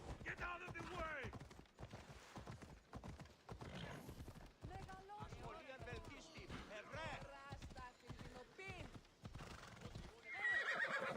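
Donkeys in a video game, braying and whinnying with clip-clop hooves in a busy, continuous mix, the animal calls rising and falling while talk runs underneath.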